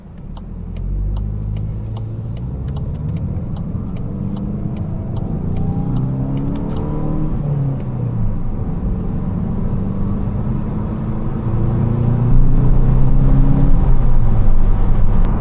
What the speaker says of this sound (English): Nice part about this turbocharged engine is it has power pretty much everywhere